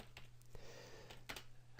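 Quiet computer keyboard keystrokes while working in PowerPoint 2010, a few sparse clicks spread apart over a steady low hum.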